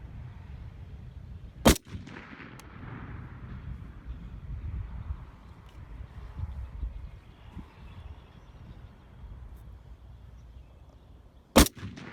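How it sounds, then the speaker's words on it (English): Two sharp, loud shots from a DSA FAL rifle firing 168 grain Federal Premium rounds, about ten seconds apart, each a sudden crack against steady low wind rumble outdoors. "I'm going to take 5 shots with some 168 grain Federal Premium."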